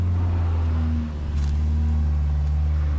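A Subaru Forester drives off-road with a steady, loud low engine drone from inside or close by. A brief dip and a faint rattle break it about midway, and there is no talking.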